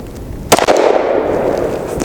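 A Glock 29 10mm pistol fires an Underwood Xtreme Penetrator round: a single sharp, loud, close report that cracks suddenly and rings off into a lingering decay.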